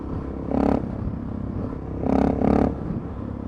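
A supermoto motorcycle engine revs in three distinct bursts, one short blip followed by a double rise, over a steady idle heard from close by.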